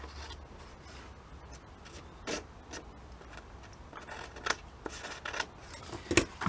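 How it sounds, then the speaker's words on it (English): Scissors trimming paper pages for a junk journal made from a Ladybird book, close crisp snips and slicing strokes coming in irregular bursts over a quiet background, with no talking. "We can always cut them down if we need to anymore."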